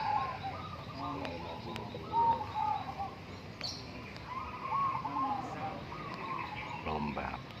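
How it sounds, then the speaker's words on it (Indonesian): Local wild-type zebra doves (perkutut) cooing at a busy bird-song contest at a PLN venue in Yogyakarta, soft repeated coos and chirps heard at a distance beneath nearby chatter and crowd noise. "Lomba perkutut di kandang PLN Yogyakarta."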